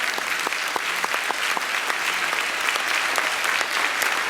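An audience at a Catholic Divine Mercy family healing conference claps steadily in a room, a loud, even wash of many hands with sharp individual claps throughout and no pauses.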